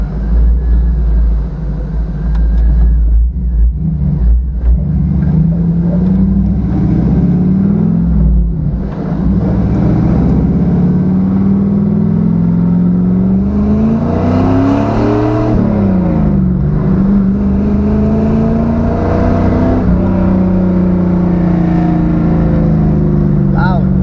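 LS-swapped GMC Sonoma pickup driving around town, its V8 rumbling low and steady then revving up and easing off in repeated swells, loud and continuous from inside the cab, with occasional talk underneath.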